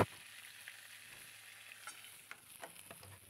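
Small puti fish, bellies full of roe, fry in oil in a village-style kitchen with a steady, soft sizzle and a few faint pops and crackles, quiet and close, with no voices.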